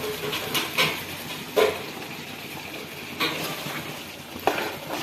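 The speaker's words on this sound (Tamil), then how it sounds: "இப்போ அரைச்சி வச்சிருக்க பேஸ்ட்டை இதில் ஊற்றிக்கலாம்" Green masala paste poured into a hot pan for chicken gravy, frying with a steady soft sizzle broken by a few sharp clatters and stirring knocks, close and moderately loud with no talk.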